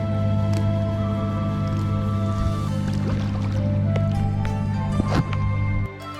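Kayak paddling on the Colorado River backwaters near Castle Rock Bay: soft water splashes and drips from paddle strokes over a steady low motor-like hum, with a couple of brief knocks near the end.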